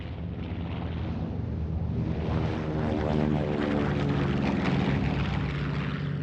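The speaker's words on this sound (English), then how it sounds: "It was seen east of Bougainville by a U.S. Navy Catalina patrol plane" A U.S. Navy Catalina patrol plane drones steadily with a throbbing propeller engine, a continuous, even hum under rushing air with no talk.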